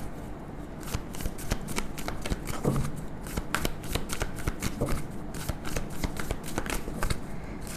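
Tarot cards shuffled continuously close up, a dense run of papery riffling and slapping with a fast, uneven rhythm.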